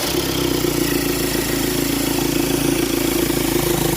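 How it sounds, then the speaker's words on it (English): An Audi A6 Ultra 2.0 TDI diesel engine idles steadily and loudly nearby, with an even low throb and a rattly mid-range clatter throughout. "So just going to restart the engine now."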